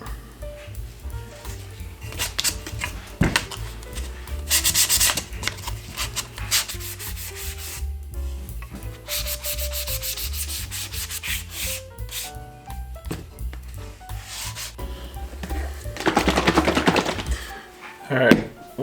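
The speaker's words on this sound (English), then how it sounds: "next thing we'll do is a little quick sand since this rose the grain a little bit" Sanding a wooden plant stand between finish coats to knock down raised grain, with steady scratchy rubbing strokes close up that rise and fall in bursts, louder near the end.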